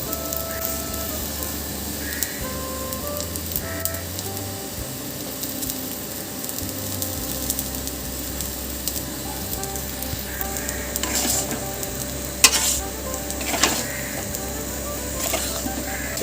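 Mustard paste going onto boiled potatoes in a pan over low to medium flame, a steady close sizzle with scraping stirring strokes and light clatter throughout, no voices.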